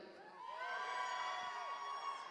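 A live audience at an onstage conversation with David Tennant lets out a sustained cheer with whoops, a crowd roar heard from the room.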